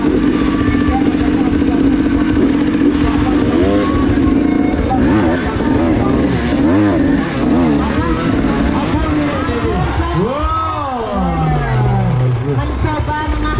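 Motocross motorcycles tackling a steep hill-climb slope at a local prize event, engines revving and whining up and down in pitch, the loudest rider swooping through near the end, while a commentator speaks over a constant crowd and engine din.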